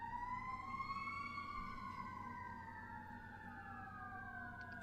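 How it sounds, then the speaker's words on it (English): Emergency vehicle sirens wail in long rising and falling tones, several overlapping, steady and moderately distant over a low traffic rumble. "You hear the sirens?"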